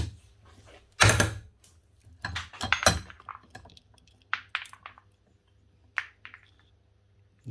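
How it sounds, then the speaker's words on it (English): A bearing's outer race is crushed in a vise during repair of a Mafell KSS 300 cross cut saw, giving a few sharp metallic cracks and creaks amid quiet gaps, close and fairly faint. "the best way to remove the outer race without damaging anything else is to just smash it in the vise"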